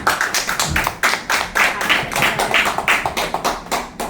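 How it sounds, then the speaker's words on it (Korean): Steady rhythmic clapping at a literary award ceremony, about a dozen even, close claps beating in time without voices. "큰 박수 부탁드립니다."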